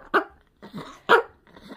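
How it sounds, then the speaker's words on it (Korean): A pet dog barks indoors at home, two loud close barks about a second apart, each followed by softer yips or whines, with no talking over them. "왜 이렇게 짖지?"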